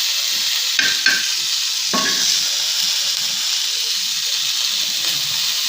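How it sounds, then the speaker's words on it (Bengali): Chilies fry in a pan with a continuous bright sizzle and hiss, broken by a few short scraping stirs near the start. No voices are heard. "মরিচও মোটামুটি ভাজা হয়ে গেছে।"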